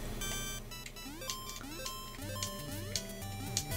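Chiptune music and beeps from Super Mario Land: short electronic tones and quick rising and falling blips repeat in a busy pattern at moderate volume.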